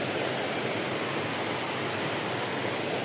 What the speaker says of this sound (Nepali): यहाँ रहेछ झरना चाहिँ, यहाँ रहेछ है